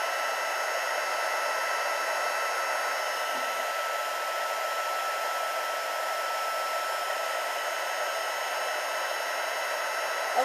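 A heat gun melts embossing powder on a stamped card, blowing a steady, even hiss and whir that holds at one level throughout with no talking.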